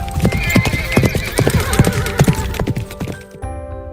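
A horse gallops with a rapid, rhythmic clip-clop, loud and close, joined by a whinny, and the hoofbeats fade out near the end as part of a storybook sound effect.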